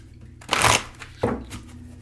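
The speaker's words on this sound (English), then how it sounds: "Let's grab some cards from here." An oracle card deck being shuffled by hand up close, two or three quick riffling bursts of card flutter, fairly soft with no talking.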